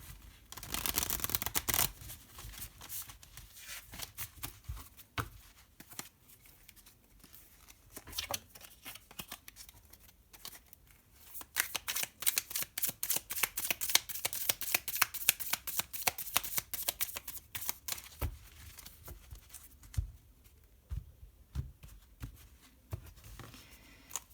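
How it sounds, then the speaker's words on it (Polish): Tarot cards are drawn from a deck and shuffled, with long stretches of dense, crisp riffling and flicking that comes close and fairly loud, broken by brief pauses. "Teraz tak, z mojej talii wezmę karty."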